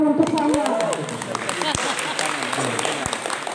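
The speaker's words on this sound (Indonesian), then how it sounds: "Tepuk tangan dulu untuk saya." Audience applause at the closing ceremony of a teacher training program in Manggarai regional language in East Manggarai, Indonesia. Continuous scattered clapping fills the room beneath a speaking voice, with a few sharp isolated claps standing out.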